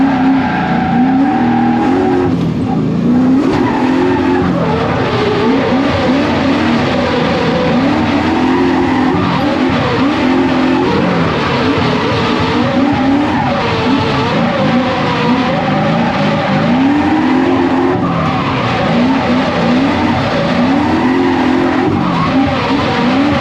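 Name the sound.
race car skidding through a turn on track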